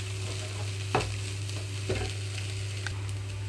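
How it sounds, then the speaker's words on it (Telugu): Carrots frying with chili powder over a medium flame, a soft steady sizzle with a low hum beneath and two or three sharp spatula scrapes against the pan. "మాడిపోకుండా దగ్గరుండి కలుపుకుంటూ వేయించుకోవాలి"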